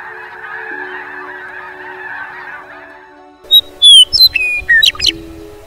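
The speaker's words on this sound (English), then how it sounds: "migrating birds return to this part of the world" Migrating geese honk in a spring river valley in southern Alberta, a loud burst of several overlapping calls after a few seconds of steady low hum.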